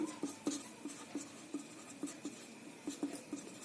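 Chalk or marker tapping and scratching on a board during a chemistry lesson, a quiet irregular series of short strokes and taps, close and alone without talk.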